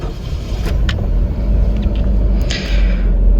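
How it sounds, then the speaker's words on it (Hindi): A Suzuki Liana's engine runs just after starting, heard from inside the cabin as a loud, steady low rumble with a few faint clicks on top. "तो गाड़ी हमारी स्टार्ट हो गई है।"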